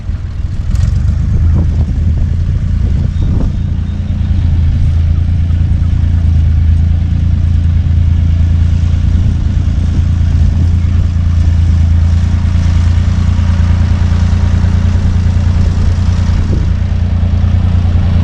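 A farm tractor's engine runs steadily during mountain fence repair, a loud, continuous low rumble holding an even drone throughout with no talk over it.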